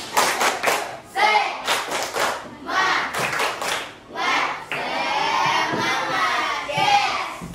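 Primary pupils in a fifth-grade classroom chant together and clap in bursts, their rhythmic hand claps and voices loud and close, with short pauses between phrases.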